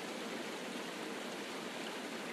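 A waterfall pours gently into a lagoon ringed by trees, giving a steady, even rushing hiss with no breaks or other sounds.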